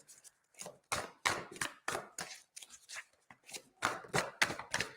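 Tarot cards shuffled by hand during a live reading: quick irregular bursts of riffling and slapping card sounds, close and crisp, repeating in uneven clusters with short silences between, no talking.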